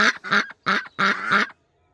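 A duck quacks loudly right outside a window in a New Zealand garden, giving four or five harsh, evenly spaced quacks and then falling silent.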